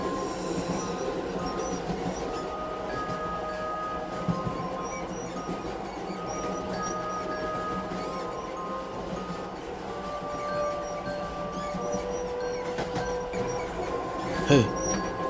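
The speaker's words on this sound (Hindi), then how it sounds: "ट्रेन चलने लगती है।" A train starts to move with a steady rumble of wheels on rails and occasional squeals, and a faint voice appears briefly beneath the continuous noise.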